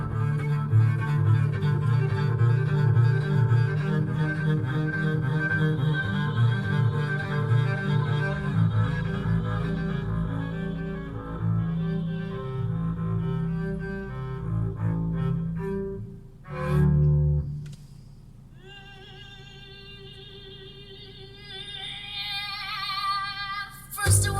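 Music plays steadily through the original factory car audio of a Mercedes-Benz W213, with a full bass line and rhythmic beat, briefly dropping out near the end before a thinner, brighter passage resumes.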